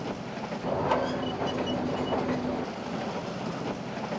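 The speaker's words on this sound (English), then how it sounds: "Back on the train, we cross the King River via the now fully restored Iron Bridge at Tupukina." Train rolling across the restored iron bridge over the King River at Tupukina, a continuous rumble with faint clickety-clack and a thin wheel squeal, moderately loud and steady.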